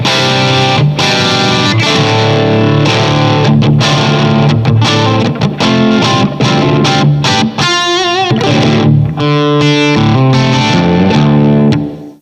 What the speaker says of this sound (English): now we're going to switch over to the UK modeled amp side, which would be like a British style, like maybe a Marshall sound